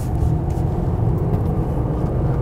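A Mercedes-Benz E-Class in comfort mode accelerates through a curve, its engine and road noise forming a loud, steady low rumble heard from inside the cabin throughout.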